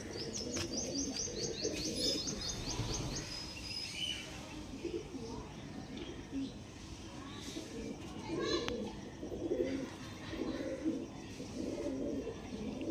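Pigeons coo and chirp in a busy loft of Andhra breeding birds, soft calls and tweets repeating under steady low rumble and nearby talk, with brief high chirps early on.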